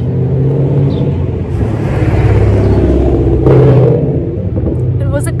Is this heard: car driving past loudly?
yes